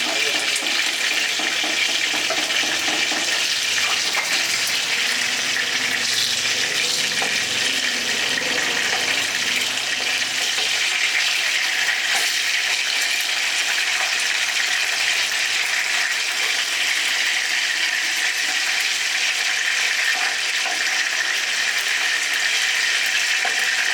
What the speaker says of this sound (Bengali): একটু কম আগুনে ভাজতে হবে, তাহলে বেশ মচমচে হবে